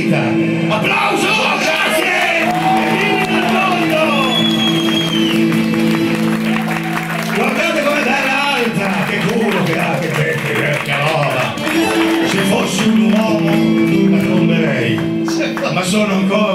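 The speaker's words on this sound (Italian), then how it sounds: "Applauso!" Loud, sustained applause and crowd cheering at a live Italian music show, with whoops and yells rising over the clapping, while music and voices carry on beneath it.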